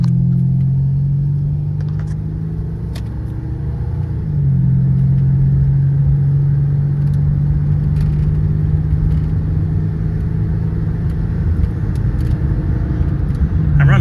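A 1997 Mercury Cougar XR-7 with a V8 and 153k miles, driven fast through curves at around 75 mph; a steady, loud low engine drone with road rumble, rising slightly in pitch partway through and holding constant.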